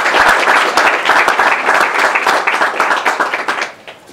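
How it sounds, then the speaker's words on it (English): An audience at a tech conference keynote gives a loud round of applause to welcome a speaker, dense clapping that stays strong and then begins to thin out toward the close. "If we can all give a welcoming round of applause."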